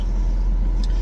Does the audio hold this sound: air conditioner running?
yes